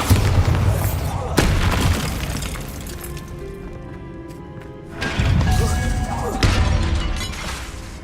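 In Hogwarts Legacy, a Bombarda blasting spell goes off as a loud boom with a crashing, shattering edge. A second heavy burst follows a few seconds later, with a ringing tail between the impacts and a voice speaking.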